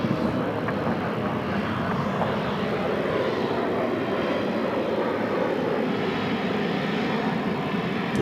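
Airliner jet engines roar steadily at Phoenix airport, a loud, continuous wash of engine noise that swells slightly and carries on without voices.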